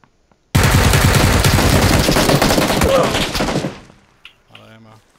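A long, loud burst of rapid automatic gunfire in a video game, sustained for about three seconds before tailing off, followed by quieter clicks and a short mechanical tone.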